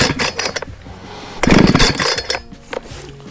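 A Husqvarna 455 Rancher chainsaw makes its first cut into a tree outdoors, loud and close, its rough engine noise rising and falling in short surges.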